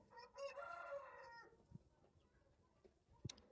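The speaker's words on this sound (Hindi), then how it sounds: "ये मुर्गा जी बेनेट वियतनाम" A Vietnamese rooster on an Aseel poultry farm gives a short, fairly faint crow near the start, followed by quiet farm background with a few soft clucks and knocks.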